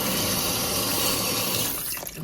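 Tap water gushes steadily into a bowl being filled to wash mussels, a loud, close rushing stream that eases off near the end.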